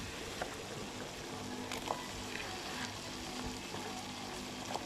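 Cubed potatoes dropped into a pan of frying masala and tomato for a mutton mince curry, giving a steady soft sizzle with light stirring clicks, quiet and close throughout.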